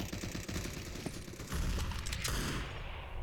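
Rapid bursts of gunfire from an online tactical shooter match with AKs and an MP7, dense and continuous throughout, growing heavier midway.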